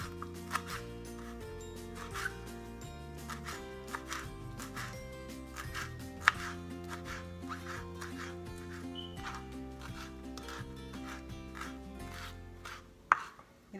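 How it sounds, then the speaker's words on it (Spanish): Knife chopping fresh cilantro finely on a board, a steady run of quick, close, crisp taps, with a faint tonal music bed underneath and one sharper knock near the end. "Ahora voy a partir el cilantro."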